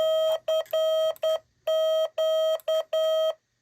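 A clear, steady tone keyed in long and short beeps at an unhurried pace, slow Morse code sending CQ, with no voices.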